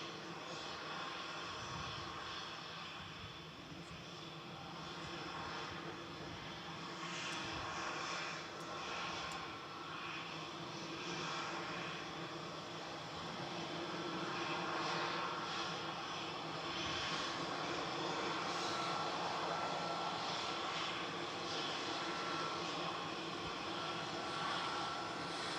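A Sun Express airliner at Manchester Airport gives a faint, distant, continuous engine rumble and roar that swells gradually toward the end, with talk in the foreground.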